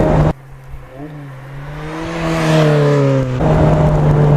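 A Lotus Elise Sport 160 engine heard close while braking downhill and downshifting to second with heel-and-toe, a steady drone dropping in pitch, then a quick blip and rising whine, no talking.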